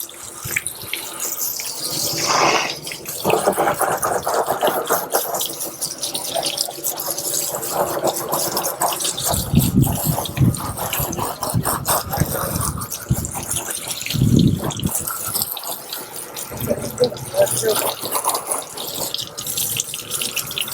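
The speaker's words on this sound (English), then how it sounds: "when you're dealing with acid, you want to make sure you put a lot of water, like a lot of water." Running water gushes and splashes steadily while rinsing a boat hull after acid cleaning, a continuous hose-like rush with fluctuating intensity over twenty seconds, close and loud, with no talk.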